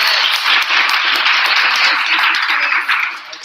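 Dense, sustained applause from an audience at a pitch competition event, a steady wash of many hands clapping that stays loud throughout before tapering slightly at the end.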